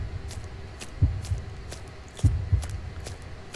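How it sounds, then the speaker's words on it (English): A heartbeat effect in the horror game Hylophobia throbs as low, muffled double thumps, about two beats per second, repeating over a faint steady hum. "This heartbeat thing's getting on my nerves,"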